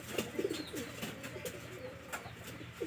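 Domestic pigeons kept in a home loft coo softly in a few short, low, rounded calls, fairly faint and close, over light ambient noise with no talking.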